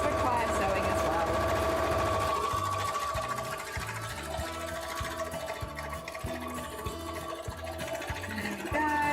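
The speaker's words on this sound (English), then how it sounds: "Oh, I forgot to sew this one up before, so I'll also sew this one up." A sewing machine stitching a fabric mock-up runs in steady rapid pulses, pausing briefly and restarting, close and clear with a constant hum underneath.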